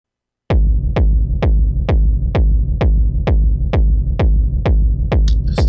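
A dry techno kick drum plays alone, about a dozen loud, punchy thumps at an even steady tempo with a deep rumbling tail, ending with a faint high ticking.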